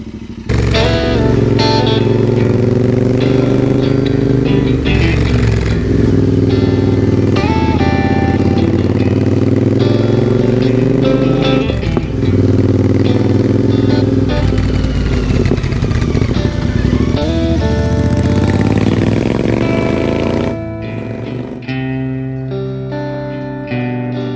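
A Royal Enfield Interceptor motorcycle rides along a road, its engine loud and close throughout with rising and falling pitch through gear changes and throttle, easing off near the end.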